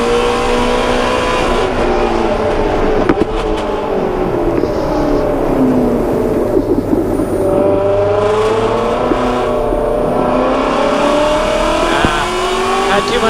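Ford Mustang GT350 at full throttle on the Circuit of the Americas race track, its engine droning loud and steady with rising and falling pitch throughout, close and continuous, with occasional tire noise.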